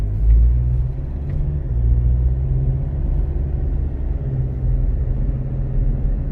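Hyundai Santa Fe CM diesel SUV pulling away from a start, heard from inside as a low, steady engine rumble and drone that swells slightly as it gets moving, with no talking.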